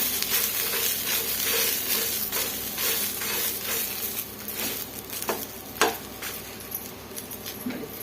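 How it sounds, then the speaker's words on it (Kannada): Chutney ingredients with fresh coriander leaves fry in a pan, giving a steady, moderately loud sizzle with scattered scraping and clinking stir strokes and one sharper knock near the end. "ಸ್ವಲ್ಪ ಕೊತ್ತಂಬರಿ ಸೊಪ್ಪನ್ನು ಸ್ವಲ್ಪ ಸೇರಿಸ್ಕೊಂಡು ಇದರಲ್ಲಿ ಹಾಕಿ ಫ್ರೈ ಮಾಡ್ಕೊಳ್ಳೋಣ"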